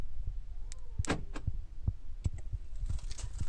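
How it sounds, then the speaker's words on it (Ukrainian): Sharp relay clicks from the central locking and comfort module of a 2007 Volkswagen Jetta, several distinct ticks spaced about half a second apart over a low steady hum, close by and fairly quiet. "Ставлю на центральний замок."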